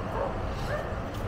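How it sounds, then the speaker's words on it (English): Many dogs barking at once on a rainy day in Canggu, Bali, a dense jumble of barks and yips over steady background noise. "Now there's a million of them, barking like no tomorrow."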